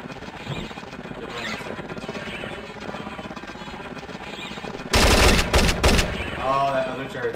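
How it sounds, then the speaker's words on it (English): A turret firing in Splinter Cell Chaos Theory: after a stretch of quieter game sound, a loud, dense burst of automatic fire erupts near the end, with a short follow-up rattle. "Oh, that other turret's shooting."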